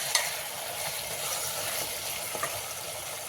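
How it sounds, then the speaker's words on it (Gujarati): Pav bhaji vegetables fry in hot oil in a pan, a steady close-up hiss and sizzle with faint crackles throughout, no voices. "ચાલો થોડીક વાર તેલમાં ચડસડવા દઈએ"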